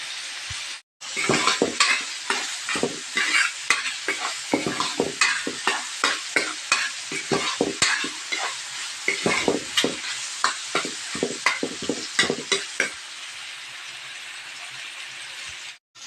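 Chopped tomatoes sizzle and crackle in a hot pan as they are sautéed with salt and crushed pepper for a luncheon meat and egg dish, with repeated scraping stirs over a steady fry that fades near the end.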